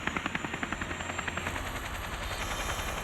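A helicopter flies over the North Sea beneath towering storm clouds, its rotor blades thumping in a fast, even pulse over a steady engine whine, close and clear with no talking.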